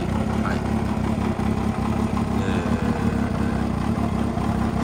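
Yamaha XJR400 motorcycle engine idling after starting, a steady low rumbling idle throughout at close range.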